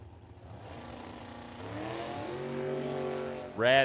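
Drag race run at Firebird Motorsports Park pitting a 1966 Chevelle against a dragster, engines building to a rising, revving roar at a distance before a sharp loud burst at the end.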